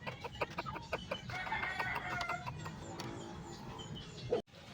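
Chickens cluck repeatedly at close range, short bursts of fowl calls overlapping in a busy, irregular rhythm, ending with a sudden cut.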